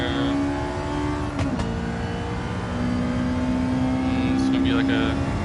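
Race car engine at full throttle in Gran Turismo 7 on Trial Mountain, a steady sustained engine whine with a brief shift dip partway through, with talk over it.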